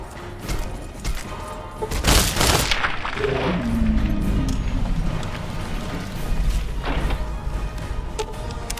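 Gunfire in Fallout 3 and New Vegas, a dense mix of shots, thuds and booms rolling continuously with a heavy blast burst near the start.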